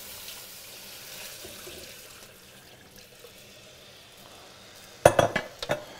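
Chicken stock is poured into a pan of toasted dried chilies, making a soft, continuous liquid rush. Near the end come a few sharp metallic clanks of cookware.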